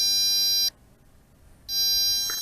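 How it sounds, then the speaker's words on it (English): A Helifar B3 Epik GPS brushless RC quadcopter emits a steady electronic beep signalling phase 2: a continuous high tone that stops for about a second and then resumes, with no talking. "it is a constant beeping, and that is indicating that we are in phase 2."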